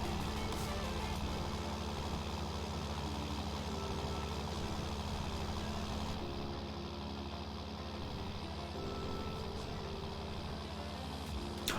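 A tuned tractor in Farming Simulator 19 runs with a steady low engine hum and idle-like drone throughout, fairly quiet and even, with no voices.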